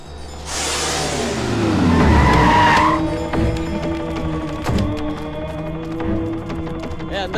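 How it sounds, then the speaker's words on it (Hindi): A car in a Hindi film chase speeds off, tires squealing loudly in a rising, sweeping skid as the engine revs hard, followed by rumbling driving noise and clattering knocks. "ए जल्दी भगा गाड़ी"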